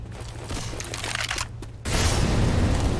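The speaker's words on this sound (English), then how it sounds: "Hell yeah, grenade launcher." Grenade launcher blast in Left 4 Dead 2, a sudden deep boom cutting in partway through and leaving a loud, rumbling wash afterward, following a stretch of gameplay noise.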